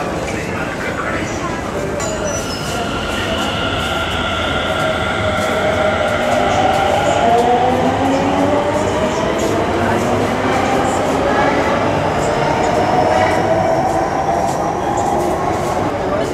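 A Delhi Metro train rumbles steadily through an underground tunnel, with a constant roar and a rising whine, and voices chatter faintly beneath the noise.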